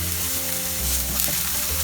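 Onion, green chilli and ginger fry in a pan for a mushroom paratha filling, giving a steady close sizzle with faint stirring scrapes, and no voices.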